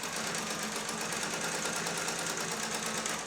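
A sewing machine topstitching a jeans waistband, running as a steady close whirring, rapid needle stitching with an even mechanical hum and no pauses or talking.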